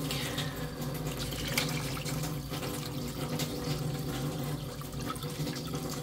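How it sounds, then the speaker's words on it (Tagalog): Water pours steadily and loudly into a pot of braised pork belly, a continuous splashing stream with no talk over it. "lalagyan na natin ng tubig ito"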